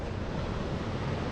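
Rough, choppy sea surging at a shoreline fishing spot, a steady broadband wash of surf with wind buffeting the microphone, loud and continuous with no voices.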